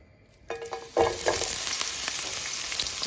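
Onions hit hot oil in a heated pan for a Kerala-style prawn roast, starting a sudden loud sizzle that settles into a steady close frying hiss with a few stirring scrapes; no voices.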